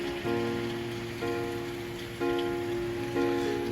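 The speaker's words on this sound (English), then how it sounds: "And heavy rain again." Heavy rain pours down during the Lismore flood, a constant dense wash of drops on surfaces, with a tonal hum that drops out and returns in pulses.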